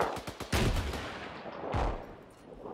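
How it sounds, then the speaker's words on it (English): A rocket launcher fires in a combat video game, giving loud booming blasts with a rattling burst before a second heavy explosion that trails off. "I'm gonna shoot him with my rocket"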